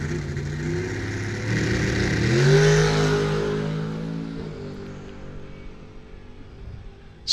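A bracket racing dragster launching down a drag strip: a loud engine roar swells and rises in pitch, then fades steadily into the distance, with no talk.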